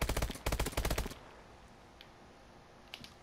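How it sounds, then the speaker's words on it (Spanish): Rapid bursts of automatic gunfire from an enemy in Call of Duty: Advanced Warfare come in several loud, close strings of shots in the first second. Quiet ambience follows, broken by a couple of faint distant shots. "Hay un enemigo disparando"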